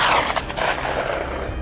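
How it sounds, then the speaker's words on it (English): A rifle shot rings out during a wild boar hunt on farmland, a sharp loud crack with a quick decaying tail, heard alone without speech. "When a target appeared in the scope, we pulled the trigger."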